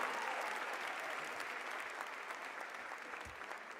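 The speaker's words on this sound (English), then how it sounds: "Let's give them another round of applause" Sustained applause from an audience at the inauguration of Baltimore Mayor Brandon Scott, steady and fairly loud throughout with no voices over it.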